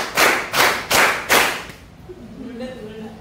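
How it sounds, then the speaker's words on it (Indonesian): Four crisp hand claps from a group in a classroom clapping game sound close and loud in a quick even rhythm, then fade as a faint voice starts underneath. "tepuk lima"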